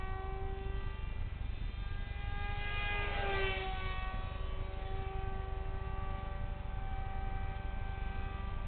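A repaired and reinforced RC F-22 model jet flies at half throttle, giving a steady high whine with a slight pitch swoop as it passes overhead, over a constant background rumble.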